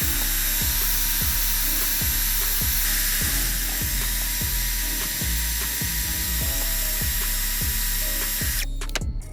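A high-speed Dremel rotary tool whines steadily with rhythmic scraping pulses as a wire brush cleans carbon off a 2JZ engine cylinder head, continuous and close, stopping abruptly near the end.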